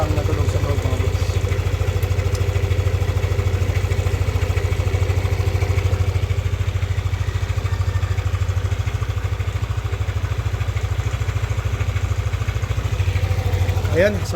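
Yamaha Aerox V2 scooter idling with a rough internal noise. The engine's low, even putter runs continuously up close, with a faint clattering rattle over the idle and no break in the running.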